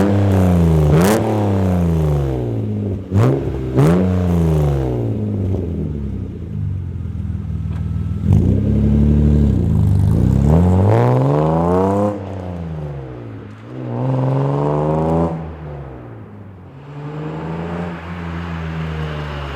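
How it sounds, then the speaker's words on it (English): A BMW E36 M3's engine revs repeatedly, sharp rising and falling exhaust bursts with deep rumbling between blips, loud and close, no voices. "I'm gonna do some revving for you guys and just external exhaust notes"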